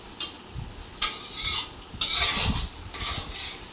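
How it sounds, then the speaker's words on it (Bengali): Onions browning in a pan while a man cooks a large batch of chicken at home, with steady sizzling broken by several distinct scraping stirs of a spatula against the metal pan, close and loud, no talking. "আর পেঁয়াজটা বেশ সুন্দর করে লাল লাল করে ভাজছে।"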